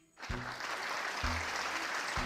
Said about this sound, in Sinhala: ක්ලැප්.